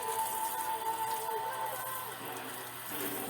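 A garden hose sprays water as a shower, making a steady, faint hiss and patter with no break in the wash of sound.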